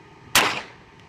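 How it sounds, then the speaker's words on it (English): A Gyrojet rocket pistol fires once, giving a single sharp, close crack that trails off into a brief hissing decay. "Firing, 3, 2, 1."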